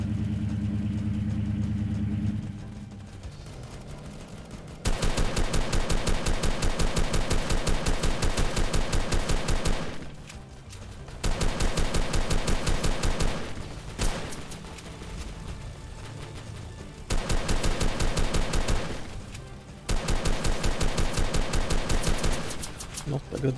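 AK47 rifle fire in the Armored Assault video game during Base Battles: long, loud automatic bursts lasting several seconds each, separated by short pauses, with engine rumble underneath.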